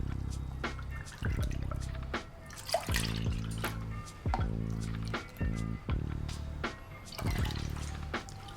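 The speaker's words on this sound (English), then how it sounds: "And now we're going to add the milk." Milk poured into a pot in a home kitchen while making a berry crumble: a steady liquid stream with irregular splashes and drips, close and fairly quiet, running for several seconds.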